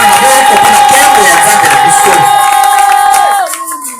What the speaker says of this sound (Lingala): Acclamez très fort pour la gloire de notre Jésus.